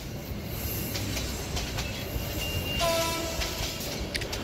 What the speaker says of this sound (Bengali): হঠাৎ হুইসেলের আওয়াজে হকচকিয়ে উঠলাম। উঠতেই দেখি ট্রেনটি দাঁড়িয়ে আছে।